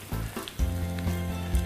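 Cheese frying in a hot pan, a close crackling sizzle that flares up in a few bursts and then settles into a steady spitting hiss.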